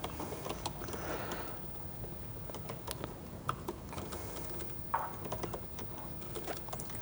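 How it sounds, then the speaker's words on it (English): Keys clacking on a computer keyboard during a live coding demo at a Laravel meetup, irregular close taps and short bursts with quiet pauses, room hum beneath. "It's really hard typing this way."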